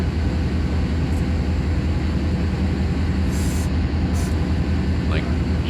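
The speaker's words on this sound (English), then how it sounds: "there's a train there" A train rolls through the Canadian mountains in Train Simulator 2020, a steady low rumbling drone of wheels and engine sustained throughout, with faint brief higher squeals near the end.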